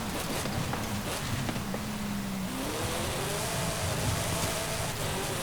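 A 2000 Hot Wheels Deora II in Forza Horizon 5 drones with a petrol engine note that rises in pitch as it revs up, heard steadily at moderate loudness.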